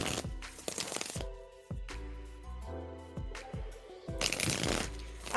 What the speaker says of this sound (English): So Alex, I'm shuffling for you now.